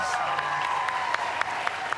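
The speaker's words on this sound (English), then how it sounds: "Can I have a hand of applause for these amazing actors?" An awards-ceremony audience at the Golden Globes in the Beverly Hilton applauds, a steady bed of crowd clapping with a few sharper claps standing out at a regular pace, and a faint voice underneath.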